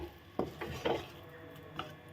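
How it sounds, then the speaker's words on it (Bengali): A utensil stirring soybean and potato korma with ghee in a pan, making a few soft, faint scraping knocks close by. "তো এখন আমি এটাকে নেড়ে নেব, সুন্দর করে নেড়ে নেব"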